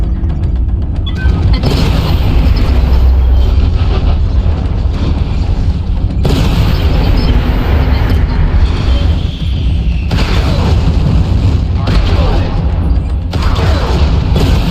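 Mech weapons in MechWarrior Online pound away with loud, dense bursts of fire and booming explosions, firing from a building rooftop, sustained heavy battle noise with brief pauses between volleys.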